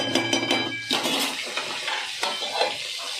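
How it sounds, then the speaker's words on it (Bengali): Metal pot lids and cookware clatter and clink repeatedly while a fish-head and cabbage dish cooks, a lid set back onto the pot among several sharp knocks over a few seconds. "আবার ঢাকা দিয়ে দিলাম।"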